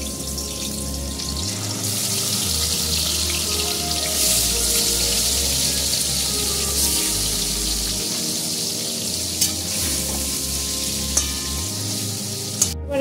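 Fish dropped into hot oil left from frying onions sizzles steadily and loudly at close range, a dense continuous hiss with faint clinks near the end and no talking.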